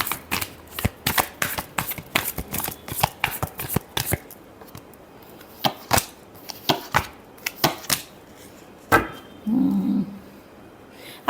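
Tarot cards shuffled by hand in rapid, crisp riffling bursts and soft slaps, fast at first and then more spaced out, close and fairly loud, with a brief low murmur near the end.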